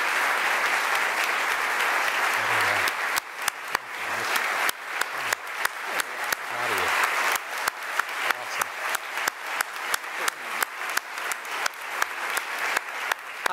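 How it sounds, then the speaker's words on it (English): An audience at a State of the Schools event applauds, with dense, sustained clapping that thins over several seconds into scattered individual claps, heard alone without speech. "Please stand so we can applaud your accomplishment."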